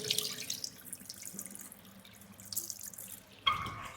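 Water running from a kitchen tap in a resale flat, a steady close splashing flow with a brief louder clatter near the end, no voices.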